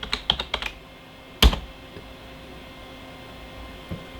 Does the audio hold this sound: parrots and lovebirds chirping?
no